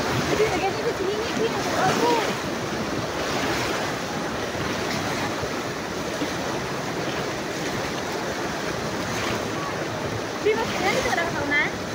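Water and mud surge down the Digos River in Digos City, a loud continuous roar and churn with wind buffeting the microphone, while voices talk over it.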